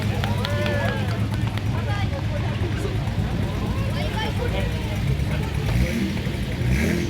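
Historic Honda Beta rally car, number 81, passing on a road during the historic Monte-Carlo Rally at Bar-sur-Aube, its engine a steady rumble amid crowd noise while a commentator talks over it.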